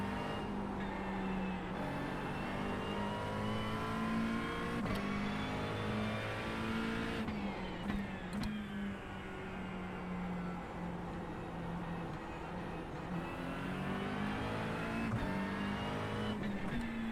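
Race car engine in a racing game, revving hard and steadily with gear shifts and pitch drops as the car brakes and drives deep into a corner, the engine loud and continuous throughout.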